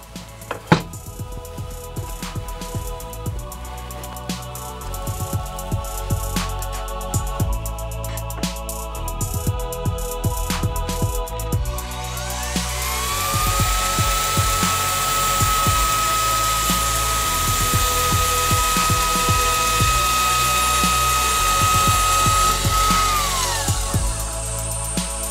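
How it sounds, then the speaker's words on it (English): A Festool DSC-AGC 18 cordless diamond cutting grinder with an extractor: a tonal machine whine climbs and holds steadily for about ten seconds, then winds down, after a stretch of clattery mechanical sounds. "turning the extractor on as soon as the grinder is switched on"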